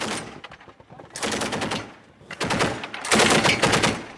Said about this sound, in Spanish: Los artilleros del vehículo blindado del ejército comienzan a disparar hacia los alrededores.